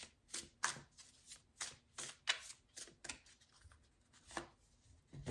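Oracle cards are shuffled in soft, irregular bursts of quick flicking and riffling, very close but quiet, with no speech over them.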